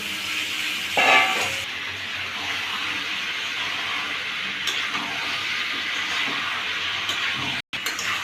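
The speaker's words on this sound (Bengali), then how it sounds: "ভালো করে মাংসটাকে একদম কষিয়ে নিচ্ছি।" Fried chicken pieces stirred and braised in a pan, cooked without oil, giving a steady, even sizzling hiss that runs throughout with a brief louder scrape near the start and a short dropout near the end.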